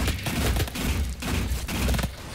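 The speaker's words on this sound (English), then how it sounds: "Shotgun." Shotgun fire in the video game DOOM during a multiplayer freeze tag match, with dense booming blasts and thuds over a loud, busy game soundscape.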